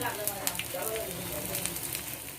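Dried Bombay duck fish roasting in oil in a pan for a green chili thecha, a soft steady sizzle and crackle with scattered small pops, faint and close, while someone talks over it.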